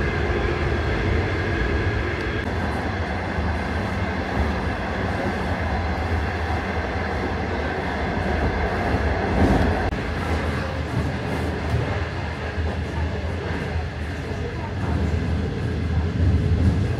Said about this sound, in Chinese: 公益性慢火车，中国铁路成都局。